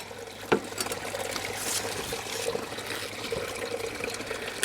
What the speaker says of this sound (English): And then rinse them under the tap.